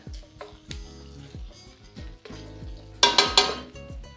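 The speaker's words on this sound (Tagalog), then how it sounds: "Ayan tumutunog na yung aking liempo." Pork belly (liempo) fries in a pan with a soft sizzle. Repeated clinks and scrapes of a utensil on the pan mark the stirring, and a brighter burst of sizzling and clatter comes near the end.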